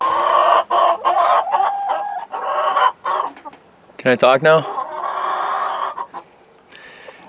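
Chickens cluck and squawk inside a chicken coop with deep bedding, loud and close, with scattered calls throughout and one sharp louder squawk partway through; a person speaks briefly.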